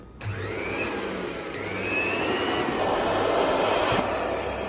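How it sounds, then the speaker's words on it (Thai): A 4-inch blade cloth cutting machine runs on a test spin after a blade change, giving a steady high whirring motor drone that holds at close range for several seconds with no talk over it. "แล้วก็ลองทดสอบดูก่อน ว่า ใบมีดที่เราใส่ไปมันตรงหรือเปล่านะมันสั่นหรือเปล่าอะไรอย่างนี้"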